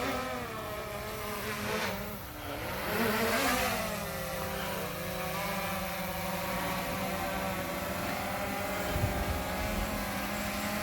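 Near, steady motor whine from a DJI Mavic Air 2 drone as it descends to land, rising and falling slightly in pitch while a rumbling background persists and a brief thump lands near the end.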